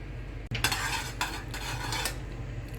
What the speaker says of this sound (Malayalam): ഇതിങ്ങനെ കൈയെടുക്കാണ്ടൊന്ന് ഇളക്കാം